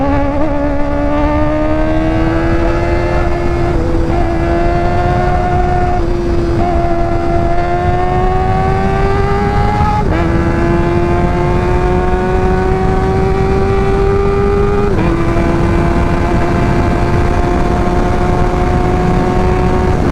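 Kawasaki ZX4RR with a 399cc inline-four engine revving loud and close, its high-pitched wail climbing in steps through several gear-like shifts over a long sustained run.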